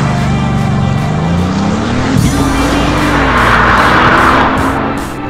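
A Bugatti Veyron Super Sport drives fast: a loud, close engine drone rises in pitch over heavy wind and road roar throughout.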